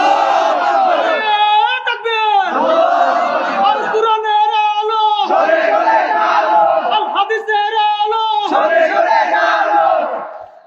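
Large crowd at an Islamic religious gathering shouting a takbir chant in unison, loud sustained voices in repeated waves, each call swelling and fading across about ten seconds.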